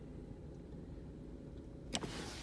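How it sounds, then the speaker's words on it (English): A Jeep Cherokee's electronic parking brake engages with one short, sharp click near the end, over a quiet idle hum inside the car. "I'm going to turn the parking brake on."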